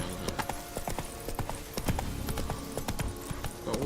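Geralt's horse Roach trots in Witcher 3, with a brisk, even clip-clop of close hooves, a soft snort, and light game ambience behind it.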